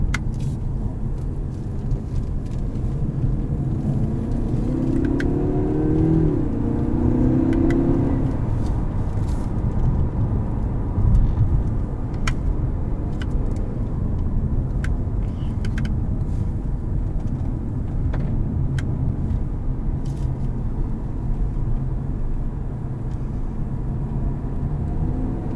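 A 2018 Lincoln MKZ with a 2-liter turbo engine and six-speed automatic drones steadily from inside the cabin while driving, a low continuous engine and road hum with a brief rising note early on.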